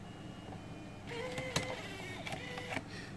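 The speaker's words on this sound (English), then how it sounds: "once you get done setting that up, you want to eject the DVD-ROM." A portable DVD drive ejects its disc tray with a brief motor whir followed by a few sharp mechanical clicks, close and fairly quiet.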